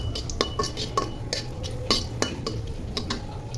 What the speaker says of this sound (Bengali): মরিচগুলো টেলে নিব